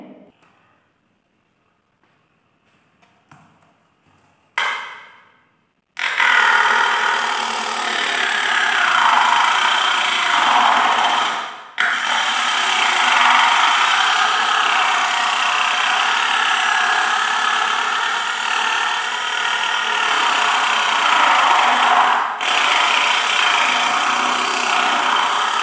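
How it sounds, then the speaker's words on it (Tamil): A cutting machine slices through cardboard, a loud steady grinding whine that runs almost unbroken for about twenty seconds with two brief dips, after a few quiet clicks and handling noises at the start. "நான் வந்து இப்போ கட்டிங் மிஷின் வச்சு கட் பண்ணிக்கிடுறேன்."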